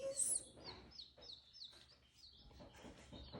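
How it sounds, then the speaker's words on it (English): Bantam chicks peep indoors in a series of short, high chirps that repeat in uneven bursts. They are fairly faint and close, with no speech. "These little babies are bantam chickies."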